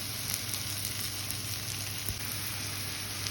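Onions, garlic, chilli, bay leaves and leeks fry in a pan, giving a steady, even sizzle up close throughout with no voices.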